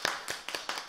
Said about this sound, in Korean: 우리 환영의 박수 합시다